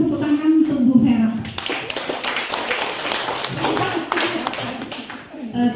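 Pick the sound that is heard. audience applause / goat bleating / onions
audience applause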